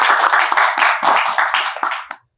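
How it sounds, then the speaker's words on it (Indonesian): A small studio audience claps for three school hosts of a student TV recap show, a short burst of distinct, close hand claps that fades out quickly at the end. "Tepuk tangan buat mereka."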